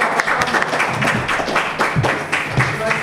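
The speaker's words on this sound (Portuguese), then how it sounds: "um forte aplauso para quem" An audience applauds at a charity foundation event, a dense patter of many hands close by with voices mixed in.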